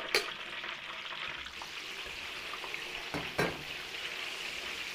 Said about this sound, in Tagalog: Tapos prito tayo dito ng tokwa.